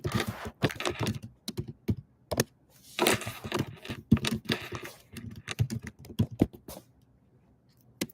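Fingers type on a computer keyboard at close range, clattering in quick irregular bursts of keystrokes with short pauses between runs.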